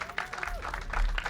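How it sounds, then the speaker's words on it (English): An audience at a press event claps for young children, a brief burst of clapping with some voices underneath. "Let's give them a round of applause."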